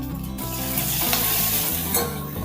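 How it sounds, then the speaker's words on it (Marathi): Crushed garlic fries in hot oil with cumin and curry leaves during tempering for a mixed-dal varan, a steady close crackling sizzle with stirring scrapes, no voices. "थोडा वेळ तेलामध्ये लसूण परतून घ्यायचा"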